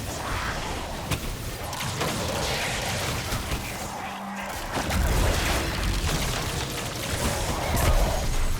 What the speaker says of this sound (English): Let me go shotgun him with some explosions and see how that goes.